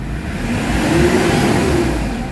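A Hyundai H100 engine with weak pull and a flat response when accelerating revs steadily and loudly nearby with a dense, continuous drone. No one talks.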